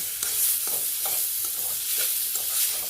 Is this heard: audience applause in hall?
no